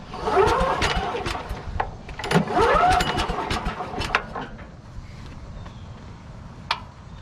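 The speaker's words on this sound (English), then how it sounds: "let's get the vacuum fired up here" A Little Wonder leaf vacuum's small engine is pulled to start, sputtering and catching into a mid-pitched running rumble, near and fairly loud, with scattered clicks and rattles over it.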